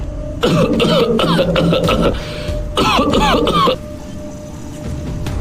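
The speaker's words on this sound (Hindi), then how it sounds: "तभी दादाजी खांसने लगे।" An elderly man coughs in two hoarse, rasping bursts of several coughs each, close and loud, with a quieter throat-clearing rattle afterward, in an animated horror story.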